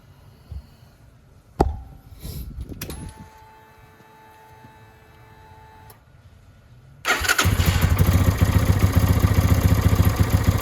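A Lifan KPX 250cc dual sport motorcycle cranks with a few sharp starter bursts, then fires up around the seventh second and settles into a loud, steady, close running rumble with no talking.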